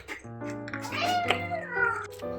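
A pet cat meows indoors at feeding time, giving one long, drawn-out, rising and falling meow close to the microphone, clear and fairly quiet, with no people talking.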